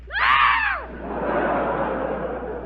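A live 1945 radio comedy broadcast audience lets out a loud burst of shrieking screams that fades into sustained crowd noise and murmuring applause-like roar.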